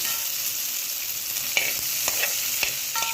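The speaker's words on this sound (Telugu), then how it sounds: "పచ్చిమిరపకాయలు, ఉల్లిపాయలు, క్యాప్సికమ్ అన్నీ వేగుతూ ఉన్నప్పుడే, బాగా వేగితేనే టేస్ట్గా ఉంటుందండి" Green chilies, onions and capsicum fry in a pan with a gentle hiss and a few sharp spoon scrapes and taps, close up and without voices.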